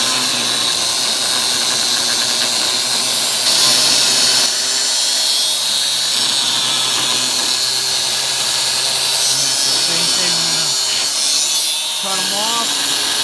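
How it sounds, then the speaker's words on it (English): Milling machine cutting the threaded end off a part for a clevis in a shop: a steady, loud whine of cutting with shifting tone and brief chatter, voices talking over it. "Mill the thread part of it off, and we can use that to clevis in."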